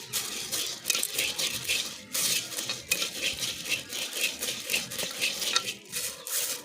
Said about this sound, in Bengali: চালটা নাড়ছি।